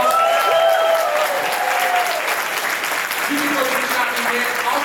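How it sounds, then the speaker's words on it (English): Applause from a tech-week conference audience thanking a sponsor, a dense, loud, continuous wash of clapping with faint voices mixed in throughout. "Let's give them a round of applause."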